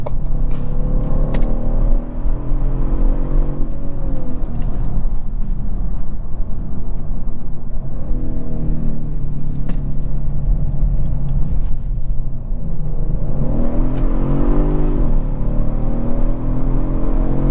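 A 2023 Kia Stinger GT2 AWD driving in traffic, its engine giving a loud, continuous low roar with shifting rising and falling tones throughout, no voices.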